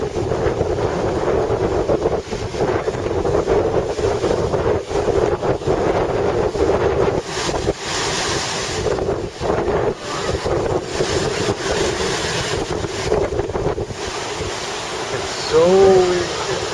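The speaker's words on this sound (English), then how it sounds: "So windy." Strong wind at a beach buffets the microphone with a constant roaring rush and gusty swells, with surf mixed in. Brief voices are heard faintly within the noise.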